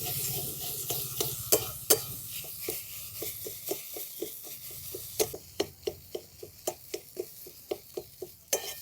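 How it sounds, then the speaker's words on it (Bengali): Spiced green peas frying in a wok are stirred with a utensil, giving a steady series of sharp scraping clicks over a soft continuous sizzle, close and moderately loud, with no talking. "দেখুন নাড়াচাড়া করে সমস্ত কিছু একসঙ্গে মিশিয়ে নিয়েছি"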